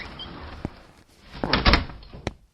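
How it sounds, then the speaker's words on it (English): A door sound effect from an audio drama set in a castle hall, with a soft creak, scattered clicks and a heavier thud near the end, fairly close and alone. "He enters a door at the end of the hall."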